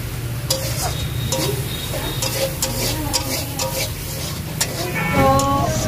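Ginger and garlic fry in a pan while being stirred: a continuous loud sizzle with repeated scraping strokes and light ticking from the utensil.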